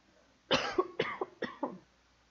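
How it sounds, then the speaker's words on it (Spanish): A fit of four harsh, close coughs in quick succession, with nothing else heard. "un ataque de tos"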